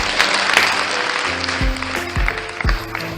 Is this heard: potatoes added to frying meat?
no